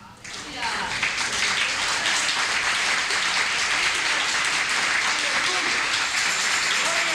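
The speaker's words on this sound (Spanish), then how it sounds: "Dale un aplauso a él" Sustained applause from a church congregation for a preacher delivering a sermon on grace, loud and dense throughout, rising quickly at the start and continuing steadily to the end.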